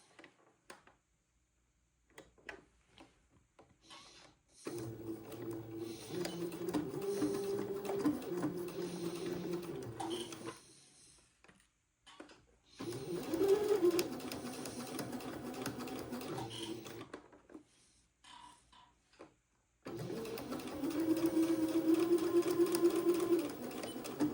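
Sewing machine stitching a seam on a boy's Eton suit, running in three sustained whirring bursts separated by short pauses, close and steady, with no talking.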